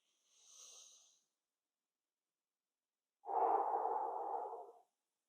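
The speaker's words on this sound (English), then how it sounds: "5-second inhale through the nose, 5-second exhale through the mouth" Paced breathing: a short, faint airy nasal inhale followed after a pause by a longer, louder breathy exhale through the mouth, close and isolated in a quiet room.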